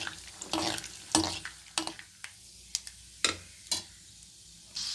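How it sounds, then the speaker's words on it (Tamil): Peanuts frying in hot oil for Karnataka-style mango rice, a soft continuous sizzle broken by several sharp scraping stirs and spatula knocks at irregular intervals. "அதில் நம்ம எடுத்து வச்சுருக்கிற கடலக்கொட்டையை சேர்த்துக்கலாம். இது கொஞ்சம் வறுபடட்டும்."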